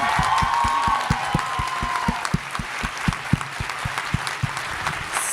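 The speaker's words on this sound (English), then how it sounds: "give a big round of applause for Kat speaking about her anxiety at Green Ribbon Club's mental health auction" Audience applause at a fan convention panel, Clexacon 2019, as a crowd claps steadily for several seconds, loud and dense, with a faint tone fading early on and no one speaking.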